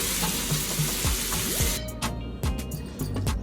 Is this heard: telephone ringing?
no